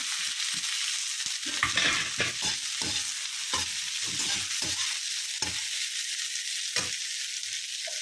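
Fried ivy gourd pieces tossed into a hot pan and stirred, giving a loud, steady sizzle throughout with repeated scraping strokes of the spoon, close up and without talk.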